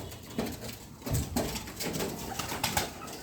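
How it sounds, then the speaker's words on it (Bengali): Pigeons cooing near a home where some nest and lay eggs indoors, soft repeated low coos in a few bursts over a steady rustling background, with a faint flutter of wings. "অনেকগুলো কবুতর বাইরে আমার মাথার উপরে আছে"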